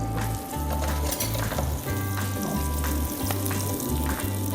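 Fish fries in a pan with garlic and tomato, a dense, loud, continuous sizzle with crackling spatters and a steady low hum underneath.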